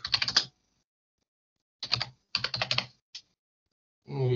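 Bursts of rapid keystrokes on a computer keyboard come in short clusters separated by quiet pauses, close and crisp, with a single isolated tap before a final flurry.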